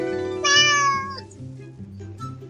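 A cat meows several times in clear, tonal calls, one long drawn-out meow followed by shorter ones, heard close and alone, playing back from video footage inside Reaper audio software.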